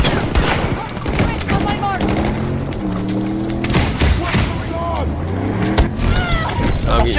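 Gunfire from Battlefield 2042 PvP play, with rapid bursts and sharp shots including sniper fire, continuous and busy throughout, layered with game voices and background chatter.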